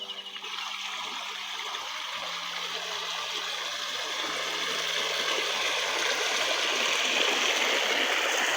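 Water from a hot spring at Unhavare near Dapoli flows and splashes downhill toward a river in a steady, broad rushing wash that builds slightly louder over time, close by and with no voices.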